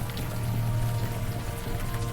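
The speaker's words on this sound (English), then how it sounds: "Now that it's out of the open air, the warm rain is coming down." Warm rain falling in the video game Unavowed, a steady dense patter with a low rumbling bed, continuous and fairly loud with no talking.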